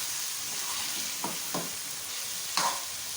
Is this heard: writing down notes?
no